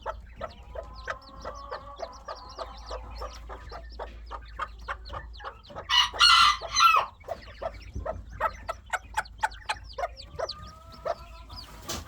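Hens cluck and newly hatched chicks peep in a coop, with a busy run of repeated chirps and clucks and a louder burst of excited squawking midway.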